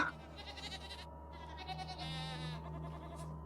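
A goat bleats in long, wavering cries, the quavering calls repeating across a few seconds over a low background hum, faint and somewhat distant.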